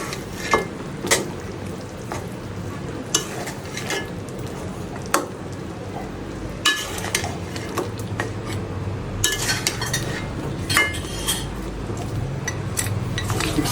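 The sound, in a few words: stirring and mixing ingredients in a kadai pan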